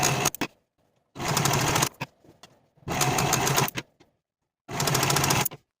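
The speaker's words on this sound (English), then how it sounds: "I'm going to take this front piece to the serger and finish my shoulder edges separately" Serger finishing the raw shoulder edges of fabric bodice pieces, running in three or four short close bursts of rapid whirring stitching separated by quiet pauses.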